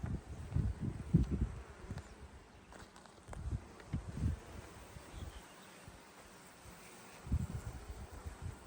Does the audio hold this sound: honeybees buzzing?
yes